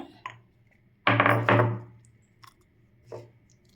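Garlic cloves pounded for homemade masala pori: a few solid, ringing thuds close by, two strong blows in quick succession with lighter taps before and after.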